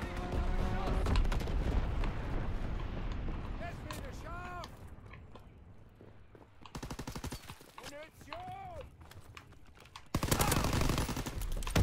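Call of Duty WW2 multiplayer on PS4 fills the mix with rapid machine-gun bursts and scattered gunfire, fading and returning in loud volleys alongside game radio voices and player chatter.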